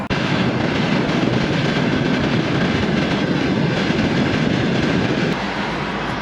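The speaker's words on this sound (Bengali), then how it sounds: "এই ট্রেনটা আসছে কাজাকিস্তান থেকে" A train carrying oil from Kazakhstan, near Tashkent, rumbles past close by, a loud, continuous roar of rolling wagons that holds steady throughout.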